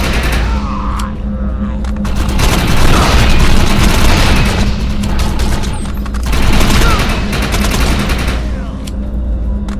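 Dense, continuous gunfire fills a battle in the video game Defiance 2050, with rapid automatic bursts and heavy booms, loud and sustained, while voices shout over the shooting.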